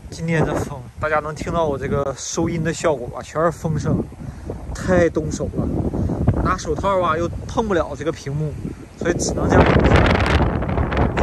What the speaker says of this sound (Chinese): 今天的风，大家能听到我这个收音的效果吧？全是风声